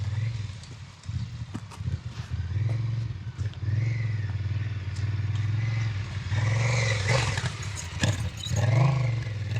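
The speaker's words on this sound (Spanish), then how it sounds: "el jugón lleva su Africa Twin muy baja de revoluciones" A 2020–2021 Honda Africa Twin rides through sand at low revs, its engine a deep, uneven throb with rattling clatter and rising surges, close and fairly loud.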